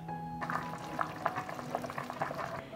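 Water bubbling in a pot on a stove burner, steady gurgling pops in a quick irregular rhythm, close and fairly quiet.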